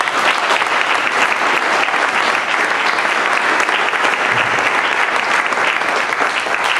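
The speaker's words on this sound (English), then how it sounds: "I think a big round of applause" Crowd at a county Democratic convention applauding for Rush Holt, a loud, dense, even wash of clapping that carries on without pause for about seven seconds.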